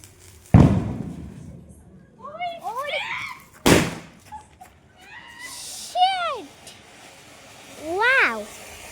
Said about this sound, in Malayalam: ഇനി പടക്കം പൊട്ടാൻ പോണ.